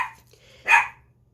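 A dog gives a single sharp, close bark at a passing garbage truck with squeaky brakes, followed by quiet.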